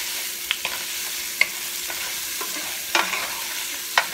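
Sausages sizzling steadily in a pan, with a few sharp clicks and scrapes as they are stirred, close and continuous with no voices.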